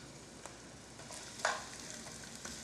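Onions frying in a pan until clear, a quiet steady sizzle with faint stirring scrapes and one brief sharper clatter midway.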